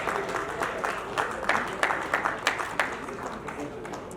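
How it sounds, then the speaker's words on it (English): Scattered applause from a group at an award presentation, moderately loud, with voices talking over the clapping. "A round of applause."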